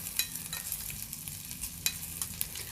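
Ginger stirred and roasted in a pan, a soft continuous sizzle punctuated by quick scraping and clinking strokes of the spoon, fairly quiet and close with no talking.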